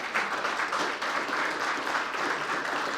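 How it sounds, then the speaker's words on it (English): Audience applause for Joe Fitzgerald at an inauguration ceremony, a continuous wash of many hands clapping at moderate level throughout, without speech. "A round of applause for Joe."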